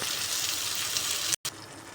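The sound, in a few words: pouring a glass of water into taro root curry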